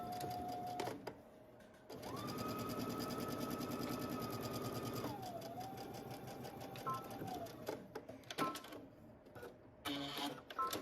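A sewing machine stitches darts on a skirt, starting with a backstitch: a few seconds of fast, steady mechanical whirring, then a slower run that trails off into scattered clicks and handling noises, heard up close.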